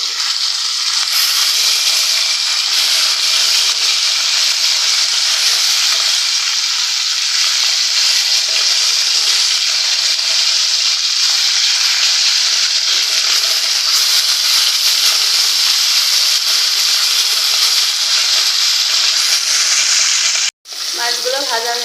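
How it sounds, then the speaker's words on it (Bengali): Taki fish fry in hot oil in a pan, a loud, steady hiss and sizzle continuing without pause for about twenty seconds, ending with a brief clatter. "উল্টায় নিয়ে ওপর পাশটা আমি একইভাবে ভেজে নেব।"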